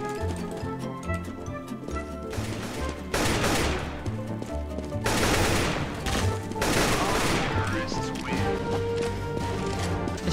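In a Roblox CS:GO-style shooter video game, several loud bursts of gunfire and crashing impacts stand out over steady tonal game music, spread across the clip.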